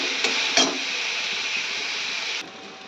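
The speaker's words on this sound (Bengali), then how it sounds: "আর একটু নাড়াচাড়া করবো," Cooked leafy greens being stirred in a pan, a steady close hiss of steam and sizzle with a couple of brief scraping knocks near the start, fading quieter toward the end.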